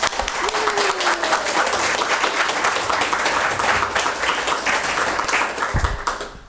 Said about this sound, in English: Can we have another round of applause for the readers?